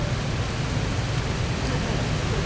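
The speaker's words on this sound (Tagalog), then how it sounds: "Yan, umuulan na mga kaibigan" Steady rain pours down in Vinzons, Camarines Norte, Philippines, a dense, even hiss with a low rumble beneath, close and continuous throughout with no gaps.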